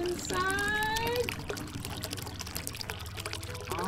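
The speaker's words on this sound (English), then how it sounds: "Pouring it slowly inside." Liquid poured slowly through a funnel into a bottle, a steady close trickle lasting a few seconds, with a child and an adult talking over it.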